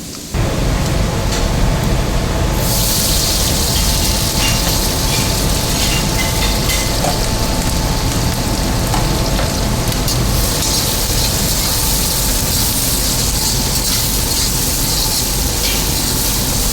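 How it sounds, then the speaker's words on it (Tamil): Cinnamon, cardamom and fennel fry in hot oil, giving a loud, dense, steady hiss and crackle that holds throughout, with a brighter fizz joining after the first few seconds. "எண்ணெயில் அவ்வளோ அழகாக பொரியுது பாருங்க"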